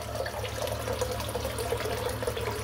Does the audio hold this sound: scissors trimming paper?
no